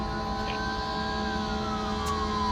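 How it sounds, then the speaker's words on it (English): Fire truck siren passing at a moderate distance, a steady tonal wail with a slowly falling pitch heard over continuous road and engine hum from inside a car. "Oh, there's a fire truck."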